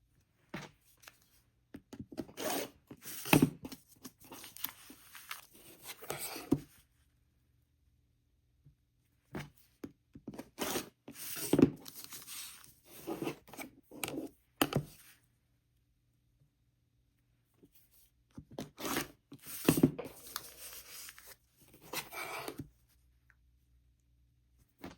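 Fabric seam allowance being trimmed on a paper-pieced quilt block, three separate bursts of soft crisp cutting and rustling close up, with quiet pauses between them.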